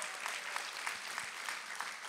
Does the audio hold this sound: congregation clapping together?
yes